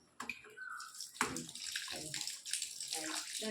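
Tap water running while a pet bird is bathed, a continuous splashing gush close by, with a voice talking over it throughout.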